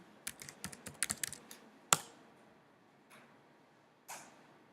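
Fingers type a Linux server root password on a computer keyboard, a quick burst of close, light key clicks, then a sharp louder keystroke and a few sparse taps after pauses.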